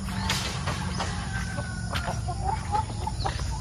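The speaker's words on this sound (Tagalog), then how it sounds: "malaki na yung ating isang tandang" Rooster on a farm in Glan, Sarangani Province, giving a few short clucks and calls at moderate distance over steady background noise, faint and alone without talk.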